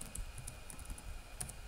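Soft, quick typing on a computer keyboard while entering a terminal command, with a handful of light, close key clicks at an uneven pace.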